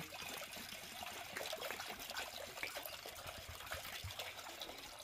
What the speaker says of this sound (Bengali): তারপরে একটা পাত্রর মধ্যে আমি কিছুটা জল নিয়ে নেব